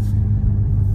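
A VW GTI with an automatic transmission accelerating while holding a gear through a turn, heard from inside as a steady, loud low engine rumble that holds constant for the whole second with no talking.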